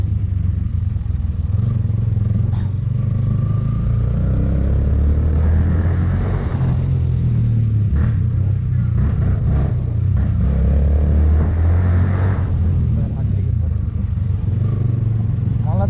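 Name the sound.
motorbike engine running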